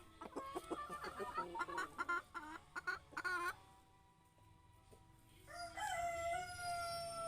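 Black Australorp laying hens in a backyard coop cluck in a busy run of short calls, then a longer drawn-out crow-like call, fairly close and with no talk over them.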